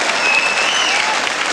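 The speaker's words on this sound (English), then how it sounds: "Well, the crowd love it." A wrestling crowd at a 1984 UK tag team bout applauds and cheers, a loud, dense, continuous wash of clapping that fills the arena without a break.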